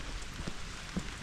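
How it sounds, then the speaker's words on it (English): Heavy rain falls steadily outdoors near a railway viaduct over the River Don, a dense, even hiss of drops filling the whole moment, close and fairly loud, with no voices. "You can see it's starting to rain pretty heavy now"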